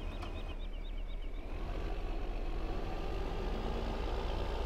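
A massive tractor engine idles with a steady low diesel rumble in the video game Farming Simulator 2015, with a brief series of faint chirping beeps near the start.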